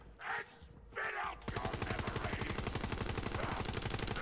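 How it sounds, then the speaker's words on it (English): A shotgun fires in the video game Borderlands 3, releasing a rapid, steady stream of loud shots after two brief spoken phrases at the start. "Shotgun does not do enough damage for this."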